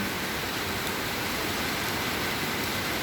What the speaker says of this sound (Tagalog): Super lakas bay ang ulan.